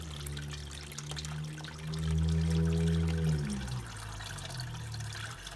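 Water runs and trickles steadily downward, with a gurgling, pouring flow that swells louder midway and then eases back to a continuous trickle. No voices.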